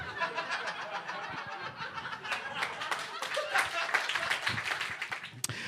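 A stand-up comedy audience claps and chuckles in scattered bursts, with laughter mixing into the applause at moderate loudness.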